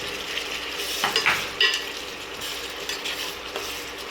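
Ridge gourd, onions and green chillies fry in a pan for a gourd chutney, a low steady sizzle with a few scrapes and stirs of a utensil against the pan.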